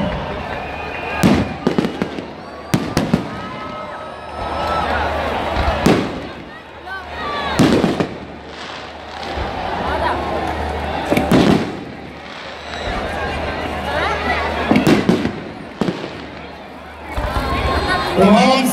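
Fireworks burst over Karachi stadium after the PSL final won by Islamabad United, sharp booming cracks recurring every couple of seconds over a loud, roaring crowd with a voice speaking over the din.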